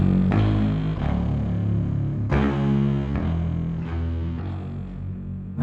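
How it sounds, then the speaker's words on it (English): Sampled bass guitar from the Soundpaint library, recorded with a microphone on the amp, gives a string of loud plucked notes with gritty natural distortion and long ringing sustain, played alone. "You're definitely getting a little more natural distortion."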